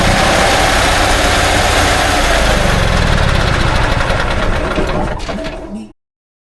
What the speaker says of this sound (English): My generator would start as long as I held the start button down, it would run.